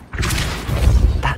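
A Depulso force spell blast in Hogwarts Legacy, a loud sustained booming whoosh lasting over a second with a deep thudding body and a brighter burst near the end.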